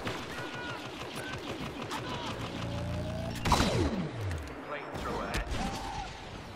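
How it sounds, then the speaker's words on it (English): Pulse cannons fire in a Star Wars video game: a dense, steady wash of blaster-like shots and crackling bursts, with one louder sweeping blast near the middle, all close and continuous. "I'm just behind him shooting him with the pulse cannons"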